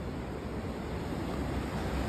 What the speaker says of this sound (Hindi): ये फ्रेश पानी ऊपर से आ रहा है बर्फ़ का पिघल के